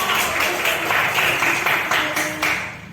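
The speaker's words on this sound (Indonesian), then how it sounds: "Iya, tepuk tangan dulu." An audience of teachers claps together in a classroom session on positive school culture, a busy patter of hands with a few louder bursts, fading toward the end.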